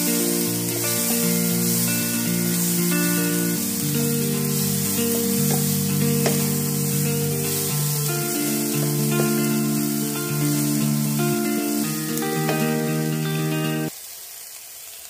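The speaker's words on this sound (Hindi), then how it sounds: "पेस्ट ऐड करके फ्राई कर लेंगे।" Loud, steady sizzle of ginger garlic paste frying with golden-browned onions in a pan, continuous throughout with music over it, dropping off near the end.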